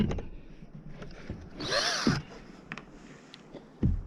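Power drill driving bolts to fix boards onto a kayak stand, a short rising-and-falling motor whir in the middle, with scattered clicks and handling knocks around it.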